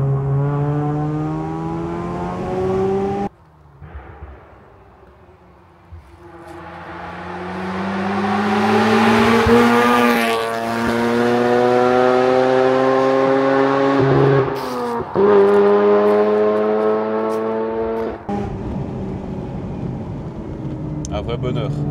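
Tuned Mazda RX-8 rotary engine revving hard on a straight while warming the tyres, a loud high-pitched wail climbing in pitch through repeated rev sweeps with brief drops between, close and dominant.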